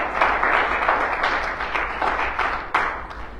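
A church congregation claps during a Sunday sermon, giving a dense spread of many hands with regular rhythmic surges, fairly loud and continuous throughout, with no voice on top.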